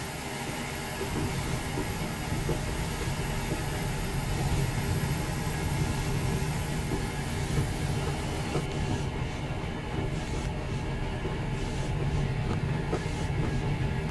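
Simulated steam train running on the Swanage Railway route in Train Simulator 2021, a steady broadband rumble and rolling rail noise with faint clickety-clack, continuous and fairly loud throughout.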